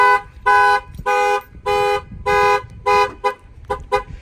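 A loud Clifford 3105 car alarm blares nearby in a series of rhythmic horn-like tones, several longer bursts followed by quicker chirps.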